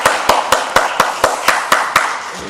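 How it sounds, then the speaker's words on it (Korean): A church congregation at a Sunday worship service claps together in a steady, even rhythm, about ten sharp, loud hand claps spaced evenly with no talking. "우리 하나님 앞에 영광의 박수 올리겠습니다"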